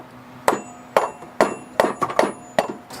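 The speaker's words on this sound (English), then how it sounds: "You just like kind of knock it on there with like a rubber mallet." A rubber mallet knocks a new A/C clutch onto the compressor of a Nissan Rogue, six or seven firm, evenly spaced thuds close by with no talk.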